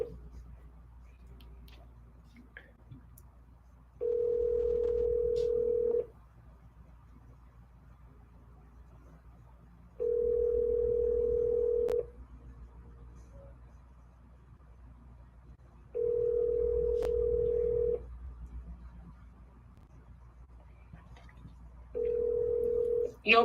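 A phone call to a real estate brokerage rings out with a steady ringback tone, four evenly spaced buzzing rings, each about two seconds long with longer quiet gaps between, heard clearly over a faint background hiss.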